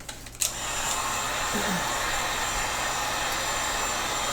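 A heat gun blows steadily on a section of PVC pipe, a continuous loud airy whoosh that starts after a short click and holds even for the rest of the clip.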